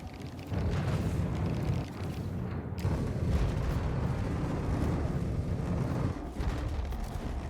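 In the Star Citizen video game, a spaceship is destroyed by weapon fire in space combat. The destruction comes as a sustained, rumbling explosive roar with crackling bursts, loud and continuous for several seconds, with no talk.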